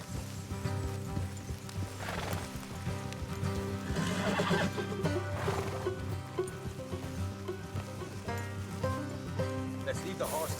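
In Red Dead Redemption 2, a horse whinnies and neighs amid clip-clopping hooves and a layered in-game soundscape, moderately loud, with character dialogue mixed in.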